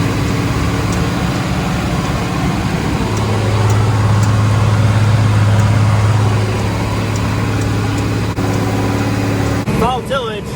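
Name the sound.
International 1086 tractor pulling an International 496 disc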